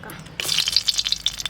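Dried red chillies hit hot oil with an abrupt, loud sizzle, then crackle with quick sharp pops and spitting bursts, close up and without talk.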